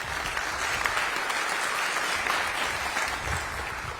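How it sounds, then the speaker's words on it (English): Audience clapping fills a civic State of the City address in Orange, a steady dense wash of applause from a large crowd that holds at an even level for the whole stretch without a break. "You can clap for that."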